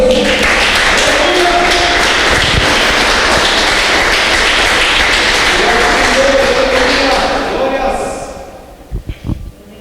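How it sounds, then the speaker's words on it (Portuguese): Congregation clapping in a church, a loud, dense burst of applause that holds steady for about eight seconds with voices mixed in, then tapers to a few last scattered claps. "você que quer, aplauda o Senhor"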